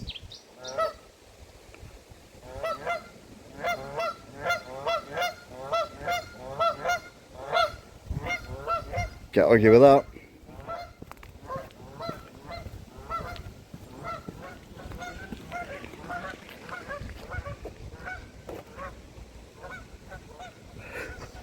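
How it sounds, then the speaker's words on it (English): A flock of Canada geese honks repeatedly, loud and close, with rapid overlapping calls and a brief outburst midway; ducks are present beside a canal, and a voice speaks briefly. "Geese and ducks having a conversation with each other."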